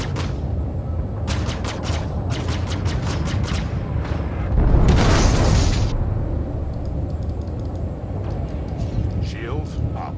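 Weapons fire and explosions during a Star Citizen space dogfight with a Sabre fighter against a pirate swarm: dense bursts of shots, then a loud rumbling blast in the middle. Voices talk throughout.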